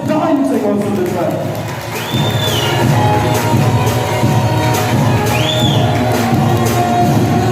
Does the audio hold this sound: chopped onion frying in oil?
no